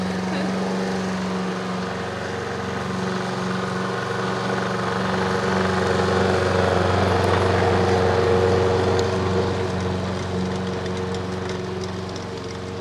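A very loud strimmer or weed-eater cuts grass in a horse paddock, a steady droning engine whine running continuously throughout, close by and swelling slightly in the middle.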